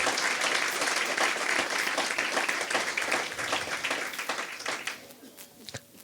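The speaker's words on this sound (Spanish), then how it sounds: "Aplaudirle a Jesús." A church congregation claps during a sermon, a full burst of applause with distinct sharp claps that gradually fades to a few scattered hand claps.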